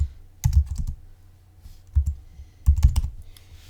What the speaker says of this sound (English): I will go to my Launchpad and type in the search box text edit.